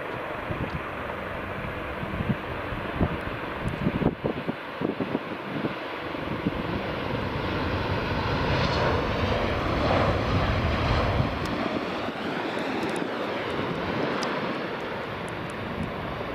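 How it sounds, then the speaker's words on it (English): A KLM Embraer 190 jet lands at Aberdeen Dyce Airport, a swelling engine roar with gusty wind buffeting the mic, the jet sound building and sustaining at moderate distance. "KLM's Embraer 190 is just about to land"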